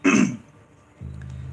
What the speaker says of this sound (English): my little interim where I clear my throat